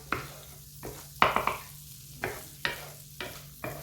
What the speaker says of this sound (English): we're just going to melt this butter down and then get in there a bit of flour